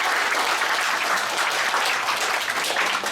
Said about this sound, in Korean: 다시 한번 송영호 전 사관님께 큰 박수 보내주시기 바랍니다.